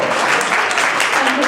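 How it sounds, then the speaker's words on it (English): Brief burst of audience applause welcoming a cook to a cooking demonstration, close and fairly loud clapping with some voices mixed in. "So please welcome her with an applause."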